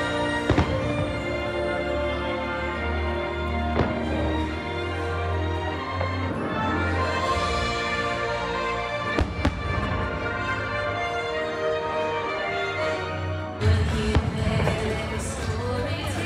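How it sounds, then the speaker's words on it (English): Fireworks at Magic Kingdom's Happily Ever After nighttime show boom in scattered sharp bursts, a handful of distinct bangs layered over loud, continuous show music and crowd ambience. "More fireworks going on."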